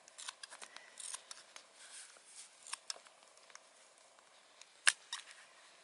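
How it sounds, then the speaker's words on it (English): Hand snips cut across flexible high-density polyethylene pipe for a hoop house, a string of faint, close crunching snips and clicks with one sharper snap near the end, with no talk. "I cut this pipe across from each side because my snips don't reach that far"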